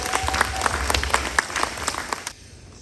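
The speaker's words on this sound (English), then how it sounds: "a big round of applause to Town Crier" A crowd at an outdoor Canada Day celebration in Alnwick Haldimand, Ontario, applauds the Town Crier with loud, lively clapping that cuts off abruptly near the end.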